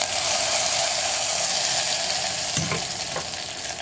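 A steady sizzle fills a pan as tempering is stirred into a radish dal curry, with a couple of faint scraping clicks of the spoon.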